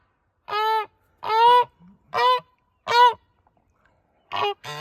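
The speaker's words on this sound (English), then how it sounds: "Two noisy honkers." Two geese honk nearby in a series of loud, nasal calls, about six separate honks spaced roughly half a second to a second apart.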